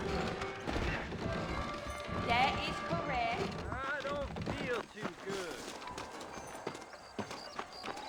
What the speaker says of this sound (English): I got the horses.